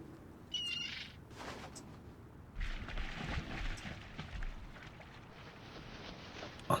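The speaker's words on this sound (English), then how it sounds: "the seagull's gonna attack it" Seagull cries from The Longest Journey, shrill squawks around the first and fourth seconds over a steady ambient game background, fairly quiet with no talk.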